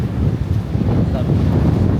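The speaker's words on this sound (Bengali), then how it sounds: "আজকে ওয়েদারটা খুব চোস একটা ওয়েদার কিছু নাই মেঘলা আকাশ ঠান্ডা ঠান্ডা বাতাস" Cold wind gusting on an overcast beach on an island, a steady loud low rumble of wind buffeting the microphone with a faint wash of surf beneath.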